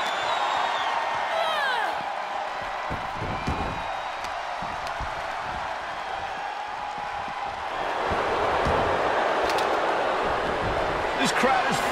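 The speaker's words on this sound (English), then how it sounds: "This crowd is thunderous right now." Wrestling arena crowd in WWE 2K24 roars steadily throughout a women's match, swelling louder in the second half, with sharp impacts and a commentator's voice under the noise.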